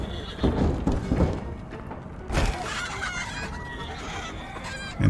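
Chickens cluck and squawk in the video game Little Misfortune, a busy run of fowl calls in the first half followed by a sharp burst and quieter scattered clucking, with no talk.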